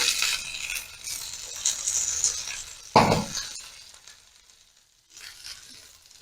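Sliced onions sizzle and fry in a pan for paneer kofta curry, a steady loud hiss with a sharp clink of a utensil against the pan midway, then the sizzle fades and swells again.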